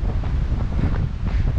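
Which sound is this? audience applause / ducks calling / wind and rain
wind and rain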